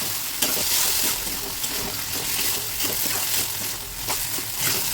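Boiled kohlrabi and potato frying with a little water and spices in a pan for an Assamese fish curry, a steady dense sizzle with stirring scrapes, close and continuous.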